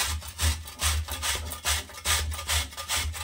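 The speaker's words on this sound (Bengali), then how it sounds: "এই ঘষনির সাহায্যে ঘষে নেব।" Jaggery grated by hand on a metal grater for a steamed semolina pitha filling: rhythmic back-and-forth rasping strokes, close and steady, about five or six passes with no talking.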